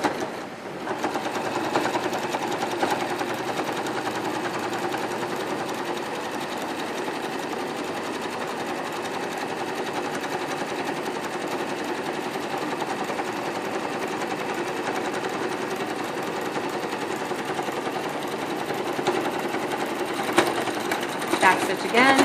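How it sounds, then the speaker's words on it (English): A sewing machine runs steadily while stitching the bottom seam of a fabric criss-cross bag, a continuous close whirring hum with a brief stop and restart near the end, and no talking over it. "we're back at the sewing machine"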